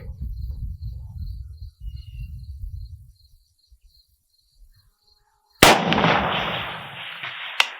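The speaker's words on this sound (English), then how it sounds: "Let me shoot one more time." A single sharp report from a Zastava M90 AK rifle fired toward a distant 500-yard target rings out after a quiet stretch, with a longer hissing tail. A low rumble of wind or handling comes before it.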